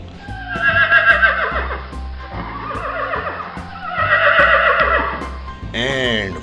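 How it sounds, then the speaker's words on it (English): A grey horse whinnies loudly, a long shaky neigh repeated in two drawn-out bursts with a short snort at the end, heard close up and alone without talk. "whoa, wow, grey horse."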